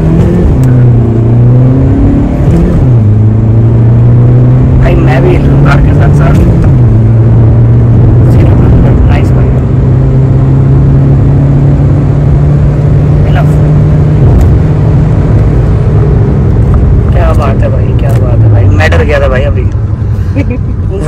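A tuned Hyundai Creta, traction control and ESP off, launches in first gear with a loud engine roar that climbs and drops through revs. Heard close from inside the car, with people talking over it.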